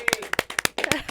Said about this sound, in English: Let's clap for Haley.